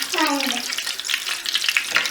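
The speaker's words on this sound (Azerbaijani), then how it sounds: "Yağımızı tökdük tavaya. Biraz qızsın." Oil heating in a frying pan before aubergines go in, giving a steady close sizzle and hiss throughout, with a brief rising pitched squeak near the start.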